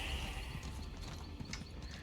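Hooves of a sprinting horse in the video game Elder Scrolls Online, a quiet, rapid, continuous clip-clop rhythm over a faint bed of game ambience.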